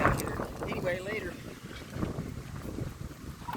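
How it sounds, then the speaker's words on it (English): Gusty wind buffets the microphone in a low rumble, with voices talking faintly underneath. "it is windy out here"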